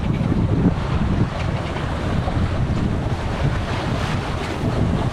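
A junk-rigged sailboat runs dead downwind wing on wing under sail alone, engine off, at about four knots: steady rushing wind buffets the microphone over continuous splashing waves and water along the hull, loud and unbroken throughout.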